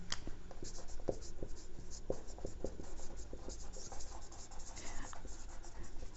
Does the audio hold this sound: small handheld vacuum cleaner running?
no